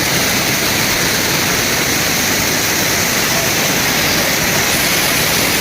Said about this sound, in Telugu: అసలు ఆ మెట్లు చూడండి, వాటర్ ఫాల్స్ చూడండి